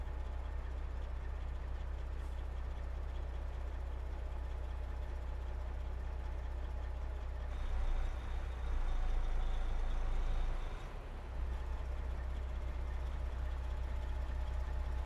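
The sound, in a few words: truck engine idling in American Truck Simulator video game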